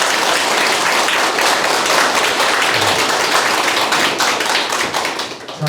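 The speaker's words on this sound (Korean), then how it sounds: "큰 박수 부탁드립니다" An audience at a Busan lecture event applauds loudly and steadily, a thick, continuous wash of clapping that tapers slightly near the end, with no one talking.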